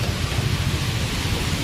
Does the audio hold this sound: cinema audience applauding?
no